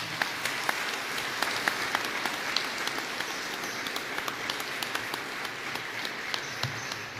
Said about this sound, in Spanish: Le brindan un aplauso a Cristo.